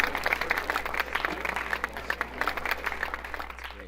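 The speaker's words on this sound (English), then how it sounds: "Here's some applause for" A small audience claps for a guest on a casual talk show. Dense, fairly close clapping runs steadily over a low electrical hum.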